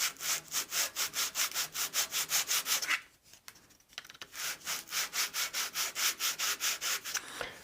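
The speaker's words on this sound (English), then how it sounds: "We can just take this one and really just sand this back and forth" Sandpaper rubbed by hand back and forth over a segmented wooden coffee mug piece, a fast even rhythm of scratchy strokes that pauses briefly midway and then resumes, close and alone.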